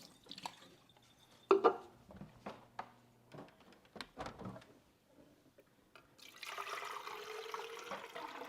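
Water running and dripping while a Nespresso machine's water tank is refilled at a kitchen sink, scattered drips and clinks giving way to a steady stream near the end.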